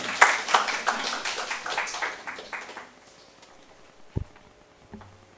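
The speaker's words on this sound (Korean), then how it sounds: "큰 박수 부탁드리겠습니다" A short burst of scattered applause fades quickly, followed by a couple of soft thumps in near silence.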